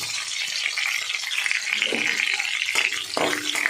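Whole spices (dried chili, cinnamon, cracked cardamom, cloves and cumin seeds) sizzle steadily in hot oil for tempering, a close, continuous hiss with small crackles.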